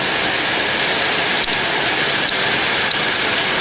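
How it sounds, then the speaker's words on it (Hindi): Heavy rain falling steadily, a loud, dense, continuous hiss of downpour close by with no talking. "बारिश बहुत तेज़ हो रहा है"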